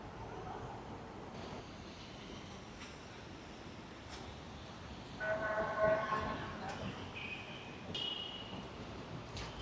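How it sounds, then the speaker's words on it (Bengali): A metro train rumbles past at a distance, a steady low roar with a brief tonal swell partway through and no talking. "এই দেখো মেট্রোটা যাচ্ছে"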